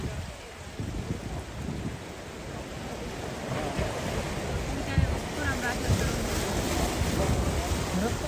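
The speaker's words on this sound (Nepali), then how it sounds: "छाल कडा रहेछ" Strong waves breaking at a scenic shoreline, a continuous loud rushing wash of surf with swelling surges, heard alone at close range.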